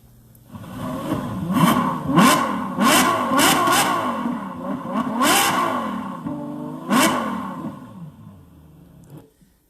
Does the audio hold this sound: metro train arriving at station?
no